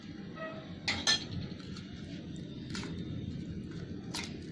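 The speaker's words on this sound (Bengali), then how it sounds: "ভালো করে মিক্স করে নিলাম" A spoon clinks and scrapes against a bowl while pointed gourd is mixed with poppy seed paste, a few sharp metallic taps over a quiet, steady kitchen background.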